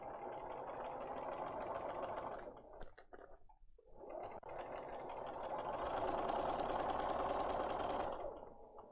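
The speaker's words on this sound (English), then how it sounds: "Take it to our machine. And sew on line 2." A sewing machine stitches a fractured glass quilt block in two close, steady runs of rapid mechanical chatter, split by a short pause, with no talk.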